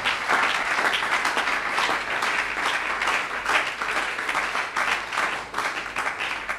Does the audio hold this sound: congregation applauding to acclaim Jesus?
yes